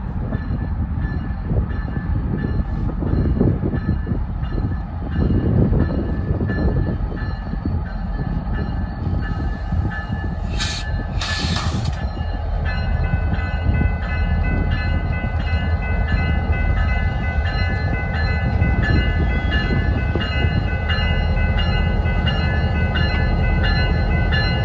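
A freight train on the Longmont Local's Lafayette run pulls ahead past the north siding switch at Broomfield Siding, with a steady loud rumble of wheels and railcars throughout and brief high metallic squeals partway through.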